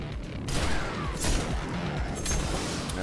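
Gunfire in the video game Destiny, dense and continuous, with repeated blasts and crashing impacts stacked over a busy mechanical din, loud throughout and no voices on top.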